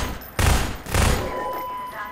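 Two heavy gun bursts ring out in Half-Life 2, each a loud booming blast about half a second apart, followed by a fading tail and a faint high tone.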